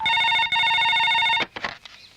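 A telephone rings after a number is redialed in a comedy scene: one steady electronic ring, briefly broken, then cut off as a voice answers near the end.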